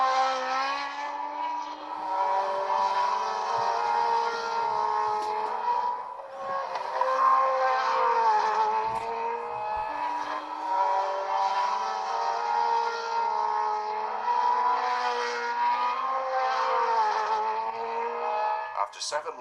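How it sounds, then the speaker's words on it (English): Formula 1 race car engines at the rain-soaked 1978 Austrian Grand Prix at the Österreichring, a sustained droning, slightly wavering engine note held at cautious revs, heard with a voice talking over it. "Listen to the engine notes to see how carefully they're taking it."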